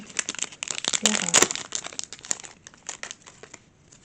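Crinkly plastic foil of a Pokémon card booster pack is torn open close by, with rapid crackling and rustling bursts that peak early, then thin out into lighter intermittent crinkles.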